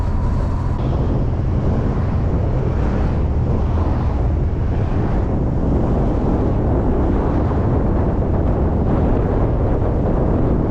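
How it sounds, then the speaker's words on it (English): Wind rushes over the chimney pipe of a camper van travelling at 80 km/h, a steady broadband roar and rumble lasting throughout, with road and engine drone beneath and no speech. "There's a little bit of wind noise from the chimney."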